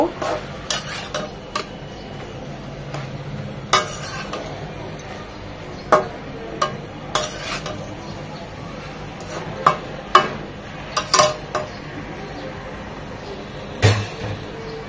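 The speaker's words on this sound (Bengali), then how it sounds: "অল্প করে দিয়ে ভালোভাবে উল্টিয়ে পাল্টিয়ে নেড়ে চেড়ে মিশিয়ে নিয়ে তারপর বাকিটা দিব।" Malabar spinach and dried fish are stirred in a metal pan, with a spoon scraping and clinking in irregular knocks over a steady soft sizzle; no talking.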